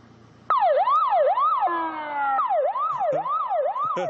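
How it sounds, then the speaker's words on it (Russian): A police car siren starts suddenly and wails loudly up close in fast rising-and-falling sweeps, briefly switching to a steady tone before the yelping cycle resumes, on a road where a bear cub wanders. "отгоняет его при помощи мигалок и сирены."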